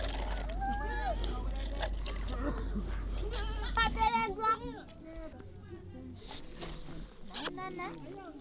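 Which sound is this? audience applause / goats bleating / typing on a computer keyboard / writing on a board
goats bleating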